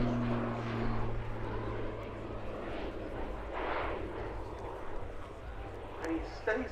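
A Slovenian Pilatus PC-9M propeller aircraft flying an aerobatic display, its engine drone swelling and fading at a distance under steady commentary.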